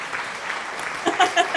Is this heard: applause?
yes